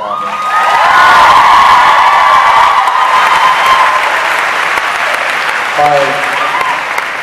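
Convention panel crowd bursting into loud, sustained applause with cheers and whoops, swelling and then tapering off as a voice starts speaking near the end.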